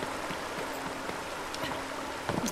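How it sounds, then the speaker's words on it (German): A waterfall in the video game Creatures of Ava gives a steady, hissing rush of falling water that runs evenly throughout, with a few faint droplet-like splashes over the top and no talking. "Ach so, das ist der Wasserfall"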